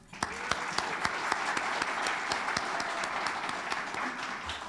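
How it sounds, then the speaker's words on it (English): Sustained applause from an audience at a Champions of the American Dream award event at Stanislaus State, a full, even roar of many clapping hands with sharp individual claps poking through, continuing steadily and at moderate loudness. "Please give our champions another round of applause"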